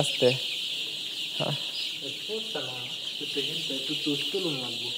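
Chickens cluck in a short run of repeated calls at close range, with some indoor dripping water and a steady high background hiss around them.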